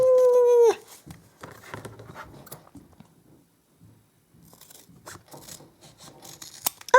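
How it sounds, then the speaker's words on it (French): Scissors cut paper at a table, producing a series of short, quiet snips and rustles, scattered irregularly after a brief high squeal at the start. "Pratique les ciseaux de l'homme, hein."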